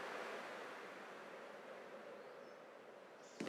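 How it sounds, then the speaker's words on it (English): Ocean waves in the game Honkai Star Rail, a soft continuous wash of surf that stays faint and steady throughout, ending with a brief sharp knock. "I can still clearly hear the sound of the waves."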